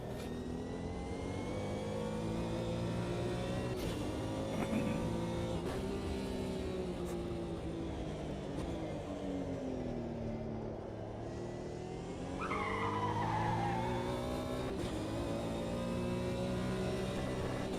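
Race car engines in a sim racing video game: a loud, continuous engine note rising and falling with gear changes, while another car's higher-pitched engine sweeps in nearby near the end.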